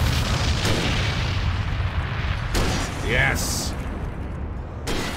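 Booming explosions in the video game Alan Wake, a low rumbling roar filling the clip with a few sharper bursts, while a player cheers briefly over it.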